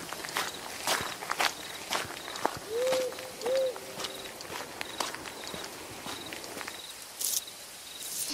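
Footsteps walking outdoors at night, a series of soft, irregular steps heard fairly close in a quiet setting, with faint insect chirping in the background.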